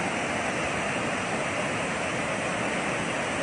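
Floodwater from Typhoon Ulysses rushing past in Santo Domingo, a steady broadband roar of flowing water, loud and continuous with no break.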